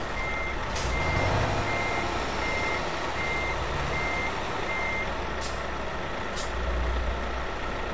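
Heavy truck in Euro Truck Simulator 2 releases its air brake in a few short hisses over a low, steady engine rumble, while a repeating reversing beep sounds throughout.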